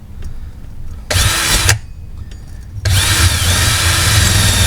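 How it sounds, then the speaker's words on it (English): A power tool deburring and cleaning a copper pipe for a new faucet install runs in two loud bursts with a quieter gap, then a steady whine to the end, no talk. "Now we get to deburr the pipe."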